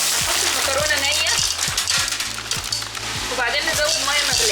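Raw pasta added to a hot pan of cooked-down tomatoes and meat, with loud continuous sizzling and frying alongside stirring clatter and small rhythmic knocks throughout.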